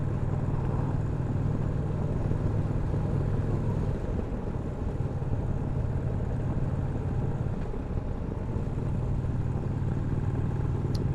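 A motorcycle engine drones steadily and loudly throughout the ride, with a constant low rumble and wind roar and small shifts in pitch, no voices.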